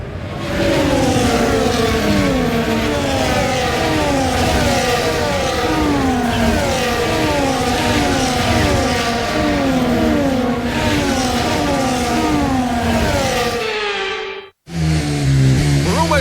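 Formula 1 race car engines in the F1 24 video game during the formation lap before a sprint race, several high-pitched engines revving and shifting continuously, loud and close, before a brief cutoff near the end.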